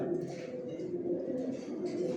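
Pigeons coo softly and continuously in a new loft where birds sit on eggs, giving a low, murmuring, overlapping drone at close range.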